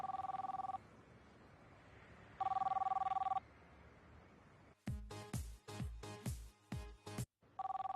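A telephone rings in a 2011 Kyrgyz film scene with clear, repeated electronic bursts separated by pauses. A stretch of rhythmic percussive music cuts in partway, and the ringing returns at the end.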